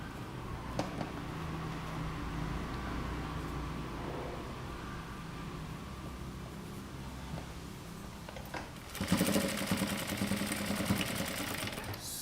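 A sewing machine top-stitches a princess cut kurta with a steady close mechanical whir that jumps to a louder, faster run near the end, with no talk over it.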